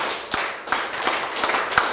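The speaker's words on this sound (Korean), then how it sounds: "짝짝 짜자작 짜자자작 짜작 이렇게 이게 박수 11번이에요" A group clapping in unison through a rhythmic counted pattern of eleven claps, the sharp claps landing in short bursts close by without talk.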